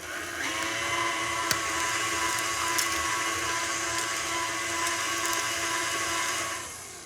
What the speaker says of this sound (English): I'll add my eggs one at a time while I'm mixing the dough.